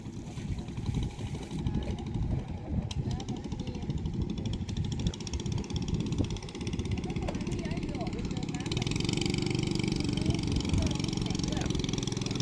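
A small fishing boat's motor chugs steadily at close range on the Pattani River at night, then revs up and grows louder near the end as it accelerates away toward the Gulf of Thailand.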